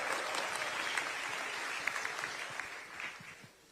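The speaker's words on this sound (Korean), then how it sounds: "큰 박수로 환영해 주시면 좋겠습니다" Audience applause welcoming visiting party leaders to Gyeonggi Province at a political rally, a steady broadband clapping that holds throughout and thins slightly toward the end.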